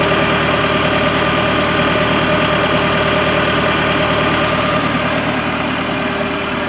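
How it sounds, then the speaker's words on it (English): A 1990 Case 585 tractor engine idles steadily nearby, a loud, even diesel rumble with a faint knocking pulse running unchanged throughout. "Good running little tractor."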